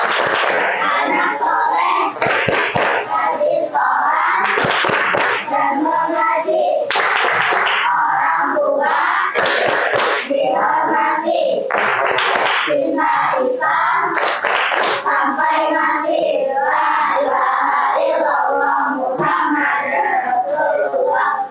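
A classroom of children performs the rhythmic 'tepuk anak soleh' clapping chant, loud, patterned bursts of hand claps alternating with chanted young voices, repeating throughout.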